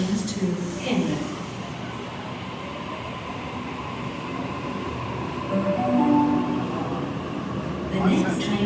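A train runs through North Sydney station with a steady rumble of wheels and motors, brief squeals and tones rising over it, while a public-address voice announces services throughout.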